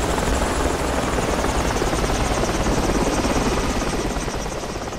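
A helicopter in the military shooter Project Reality roars loud and close, its rotor chop a dense continuous thrum that holds steady for the whole stretch, alone without talk.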